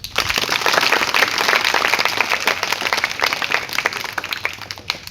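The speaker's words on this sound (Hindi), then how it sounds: "एक बार तालियां बजाएं।" Audience applause at a school event, a dense burst of many hands clapping together that holds steady for several seconds before thinning out toward the end.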